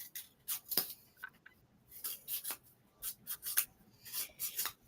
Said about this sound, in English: You'll hear some scissors going because I'm cutting things